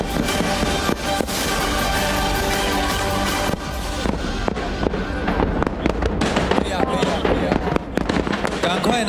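Fireworks bursting over a river at a New Year's Eve show in New Taipei City, with rapid loud cracks and booms layered over a dense crowd and music backdrop.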